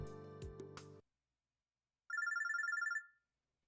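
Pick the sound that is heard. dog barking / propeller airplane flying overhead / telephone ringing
telephone ringing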